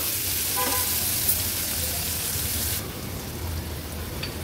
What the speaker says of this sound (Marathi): कांदा थोडासा शिजवून घ्यायचा आहे आपल्याला